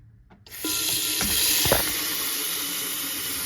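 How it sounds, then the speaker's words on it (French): Tap water runs steadily into a saucepan or frying pan, a broad close hiss starting abruptly and continuing without a break, with a few faint clinks of the pan early on. "on prend une casserole ou une poêle et on la remplit d'eau"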